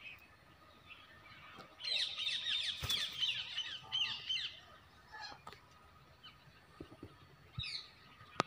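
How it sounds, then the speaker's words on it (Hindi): Many parrots kept together on a farm in Punjab, Pakistan, giving a dense burst of shrill screeching chatter for a few seconds, then fading to scattered calls over quiet outdoor background. "और ये देखें दोस्तों बहुत सारे तोते"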